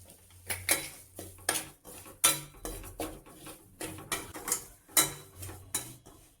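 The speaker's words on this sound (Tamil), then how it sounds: "இப்போ ரவை கொட்டி ஃப்ரை பண்ணிக்கோங்க" Semolina is stirred in ghee in a metal pan, giving repeated sharp scraping and clinking strokes of a spoon against the pan in a steady rhythm, close and fairly quiet, with no talking.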